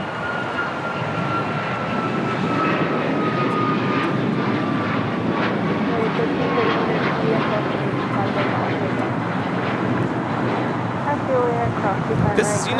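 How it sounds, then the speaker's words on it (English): United Airlines Boeing 737 MAX 9 jet taking off from LAX for Chicago, its engines a loud, steady roar that holds for the whole stretch with a faint whining tone on top, while voices talk faintly over the noise. "This is United Airlines 2039 taking off to Chicago on a MAX 9"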